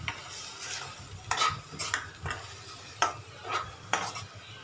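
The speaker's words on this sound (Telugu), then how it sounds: "కరివేపాకు వేసుకొని కొంచెం బాగా ఫ్రై అయిన తర్వాత పప్పు వేసుకోండి" Curry leaves and dal fry in a pan while a spoon stirs and scrapes in several distinct strokes over a low sizzle, close up with no voices.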